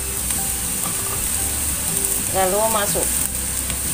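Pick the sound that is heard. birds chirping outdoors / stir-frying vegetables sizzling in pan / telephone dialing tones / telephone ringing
stir-frying vegetables sizzling in pan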